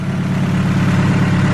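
A Honda D16Z6 engine with an HX35 turbo, new wideband and fixed exhaust leak, runs steadily at idle, a loud close continuous droning rumble with no voices.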